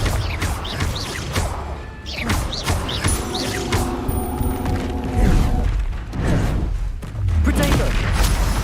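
Booming spell explosions and crashes go off repeatedly in a Harry Potter–style wizarding video game, loud and close, mixed with whooshes and shouted spell names.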